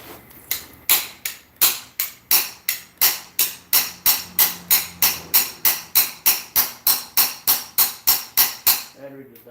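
Steady hammer blows driving a pilot bearing out with the bread trick, roughly twenty-five sharp metallic strikes in an even rhythm, close and loud.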